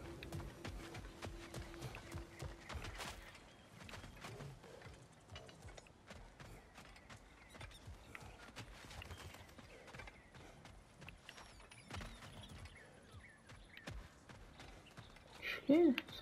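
Hooves of a goat mount clop in an irregular, mechanical rhythm as it is ridden in God of War Ragnarok, fairly faint and spread across a long stretch of game sound.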